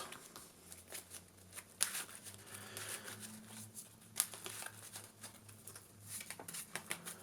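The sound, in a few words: shuffling a deck of Yu-Gi-Oh cards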